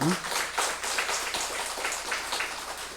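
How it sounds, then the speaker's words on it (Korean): A church congregation claps together during a worship service, a continuous, even wash of applause heard from within the room for the full few seconds. "우리 박수로 축복하겠습니다"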